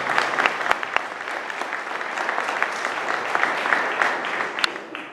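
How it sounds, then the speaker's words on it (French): An indoor audience at a lecture on globalism and France breaks into sustained applause, a dense, even clatter of many hands clapping nearby for several seconds before tapering. "cela mérite un franc applaudissement"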